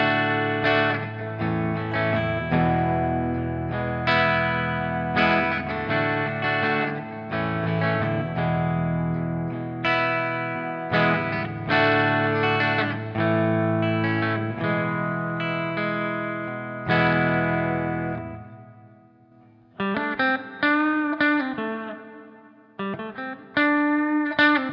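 An electric guitar plays chords and single notes through a Komet amplifier turned down, ringing and sustained with a clean, full tone, followed by shorter plucked phrases near the end.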